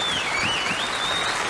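A studio audience applauds steadily and densely, a continuous wash of many hands clapping at close range with a faint whistle running through it.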